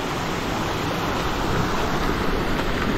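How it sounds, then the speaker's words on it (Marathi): Steady, full-bodied rush of falling water from a waterfall at Igatpuri, filling the whole three seconds at an even, close level with no voices. "हा समोर एकदम मस्त वॉटरफॉल"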